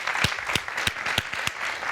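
Brief applause in a radio studio welcoming a show co-host, a small group clapping in strong rhythmic beats close to the microphone.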